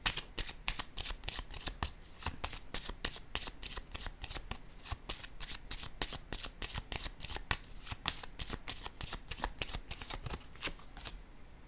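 A deck of cards riffled and shuffled by hand before a draw, a steady run of rapid, close, crisp flutters and snaps that continues without pause.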